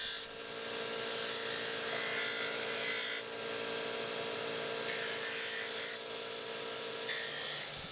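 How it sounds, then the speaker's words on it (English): In a knife factory, a grinding wheel shapes a rough-cut Kydex knife sheath, giving a steady, unbroken abrasive whir and rasp that holds at a moderate level for several seconds without speech. "Then they'll bring it over to the grinding wheel and get its final shape."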